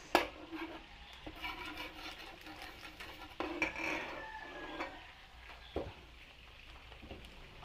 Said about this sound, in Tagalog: Lagay tayo ng mantika at gagawa muna tayo ng atsuete oil